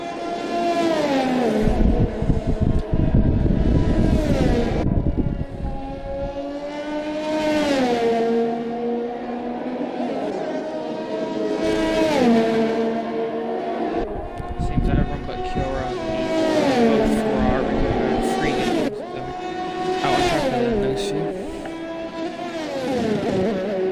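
A race car engine revving hard on a warm-up lap at the Jeddah round of an ERL racing series, rising and falling pitch sweeps repeating every few seconds, loud and close, with commentary voices mixed in.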